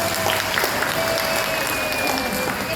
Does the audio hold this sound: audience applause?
yes